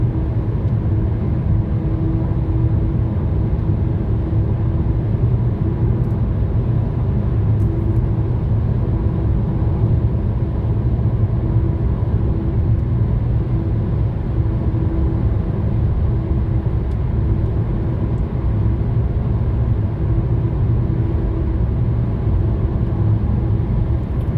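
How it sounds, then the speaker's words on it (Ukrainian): An MG ZS engine running on gas while speeding up toward 100 km/h, heard from inside the car as a loud, unbroken droning rumble mixed with road noise, with nobody speaking. "Включаю газ, зараз я на газу і набираю 100 км за годину."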